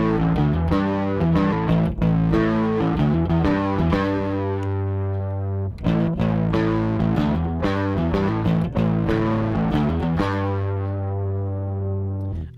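A bass guitar runs through a guitar distortion pedal, playing a loud, saturated riff of sustained, gritty notes with sharp picked attacks and a brief pause midway before the phrase resumes and rings out.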